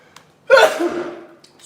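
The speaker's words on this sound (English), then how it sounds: "I gotta sneeze." A single sharp sneeze with a quick intake of breath, close and fairly loud, then quiet.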